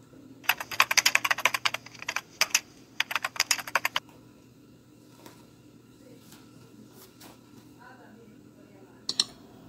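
Typing on a computer keyboard, rapid clustered keystrokes in two bursts close to the microphone, then a few scattered taps and a final click over a low background hum.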